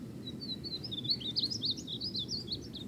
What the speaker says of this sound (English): right up here is a painted bunting male. And it has got one of the most melodic calls